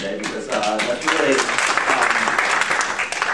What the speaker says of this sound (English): maybe for a round of applause for the good questions that have come today